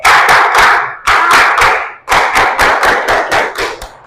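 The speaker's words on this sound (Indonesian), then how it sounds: "Kita tepuk dulu konsentrasi ya." A group of teachers in training performs the Indonesian 'tepuk konsentrasi' concentration clap, loud, close bursts of unison clapping in a patterned rhythm with short pauses between phrases.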